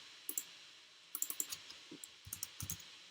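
Sharp, quiet clicks of a computer mouse come in small clusters, a few quick presses at a time, close and alone with no talk.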